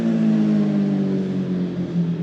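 A motorcycle passes outdoors at a park, its engine a steady, fairly loud droning hum that holds and then fades slightly, with no voices over it.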